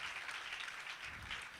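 Church congregation at a Sunday worship service clapping hands together to glorify the Lord, a dense, continuous patter of applause heard at a moderate distance with no voices on top.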